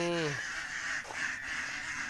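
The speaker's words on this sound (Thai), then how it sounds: "เสียงเป็ดน้องระงมเลยครับเสียงเป็ดนะครับ" Farm ducks quack in a noisy chorus, several harsh honking calls overlapping at the start and then fading into a clamorous background, with a voice talking over them.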